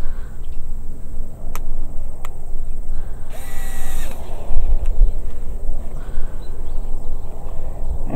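A power drill drives screws into a hoof stand outdoors, heard as one short whirring burst midway against steady background noise, with a few faint clicks around it.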